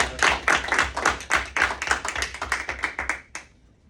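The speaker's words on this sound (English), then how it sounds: "Clap it up, everybody." Middle school award ceremony audience clapping for the Young Men of Excellence honorees, a lively run of distinct claps with rhythmic bursts that tapers and stops near the end.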